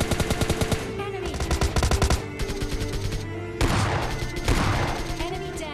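Rapid bursts of S12K shotgun fire in PUBG Mobile Lite boom in quick rhythmic volleys, loud and close, with brief pauses between strings of shots.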